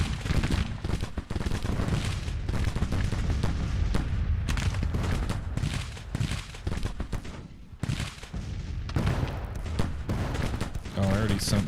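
Massed infantry musket volleys in the Civil War strategy game Grand Tactician: The Civil War, a dense continuous roar of crackling gunfire with scattered heavier booms, loud and unbroken, with a voice heard at times over it.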